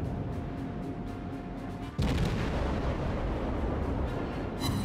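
Warship guns firing in World of Warships: a steady low rumble of engine and sea noise, then a single heavy, booming salvo that leaves a long roaring tail.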